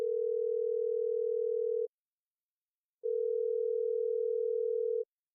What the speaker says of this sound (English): After a couple of rings, Larry answers.